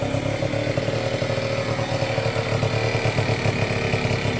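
A small scooter engine with a Tecnigas exhaust idles steadily with a buzzy, clattery putter, close and fairly loud, running evenly without revving.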